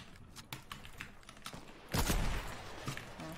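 Rapid gunfire in a video game rattles in short bursts over keyboard clicks, fairly faint at first and then a louder sustained volley.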